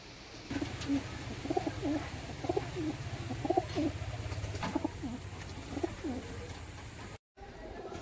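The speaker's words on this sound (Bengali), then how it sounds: "পায়রাটা দেখতে পাচ্ছেন কেমন অ্যাগ্রেসিভ, হাতের মধ্যে রয়েছে, খুব ছটফট করছে পায়রা জোড়াটা" Kalapetia pigeons held in the hand give a run of soft, repeated throaty coos at close range over a steady low background hum.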